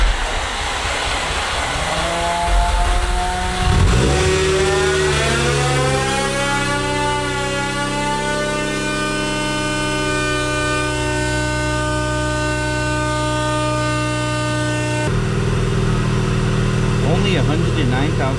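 A project car with about 109,000 miles sits running, its engine droning steadily while a rising whine, thought to be an air pump, climbs and holds in tone before cutting off near the end; someone talks over it.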